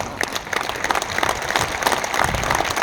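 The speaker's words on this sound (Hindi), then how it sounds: "आपकी तालियां क्यों कमजोर है मुझे नहीं मालूम है" A live crowd at Harish Hindustani's comedy show applauds in a continuous, moderately loud wash of clapping with uneven bursts, and no speech over it.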